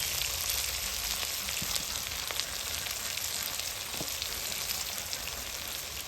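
Spices sizzling and frying steadily in a pan of oil with salt, chili and turmeric powder for a pangas fish curry, a continuous close hiss with faint crackles and no talk.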